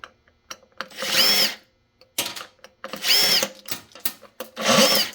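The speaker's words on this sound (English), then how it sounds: "I think I can just unscrew them" Power driver unscrewing screws from a PCM Powercom KIN-2200AP 2200VA rack-mount UPS during a teardown: three close, loud whirring bursts of about a second each, separated by short pauses with small handling clicks.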